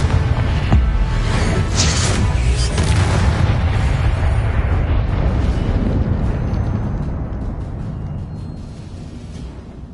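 A Confringo blasting spell erupts in the Hogwarts Legacy video game with a loud, sustained booming roar. Layered bursts keep the blast dense for several seconds before it slowly fades.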